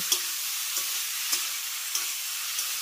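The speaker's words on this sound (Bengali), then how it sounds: "মিডিয়াম হাই ফ্লেমে এই ডালটাকে আমি তেলের সঙ্গে 3 থেকে 4 মিনিটের মতো একটু ভেজে নেব।" Masoor dal frying in oil on a medium-high flame: a soft, continuous sizzle broken by five evenly spaced scrapes or stirs of a spoon, with no voices.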